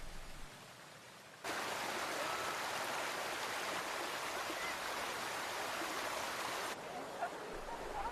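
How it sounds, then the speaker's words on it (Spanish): Hot spring water flows and splashes over white limestone terraces at Pamukkale, Turkey, a steady broadband rushing that swells loudly in the middle of the stretch and eases back toward a softer trickle at the end. "El agua caliente de los manantiales riega la piedra caliza y tiñe de blanco azulado a las montañas."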